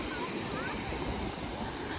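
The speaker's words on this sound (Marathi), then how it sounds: "आता समुद्र बघायला आलोय. खरंच एवढा भारी समुद्र आहे ना मित्रांनो" Ocean surf washing onto a beach with very clear blue water, a steady broadband roar of waves and wind filling the whole stretch, fairly loud and continuous with no clear breaks.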